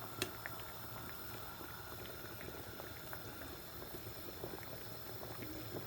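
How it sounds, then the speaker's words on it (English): Beef soup with dumplings simmering slowly in a pot, a soft continuous bubbling with small scattered pops, quiet and close, no voices. "I'll let that cook quietly away there, very slowly, for about an hour"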